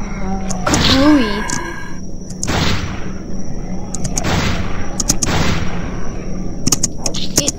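Sniper rifle shots in a zombie video game crack out as several loud booms with long decaying tails, spaced a second or two apart, while a voice talks and exclaims over them.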